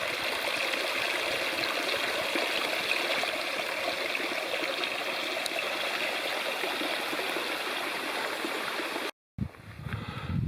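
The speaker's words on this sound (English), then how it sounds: "And here's the second small creek that the trail crosses." A small creek crossing a flat plateau trail in South Cumberland State Park, Tennessee, steady rushing and trickling water, fairly close and continuous, with a brief dropout near the end.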